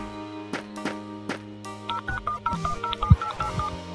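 A telephone keypad dials out to the police, first a few spaced single tones, then a quick run of short even dialing beeps, clear and close with no talking.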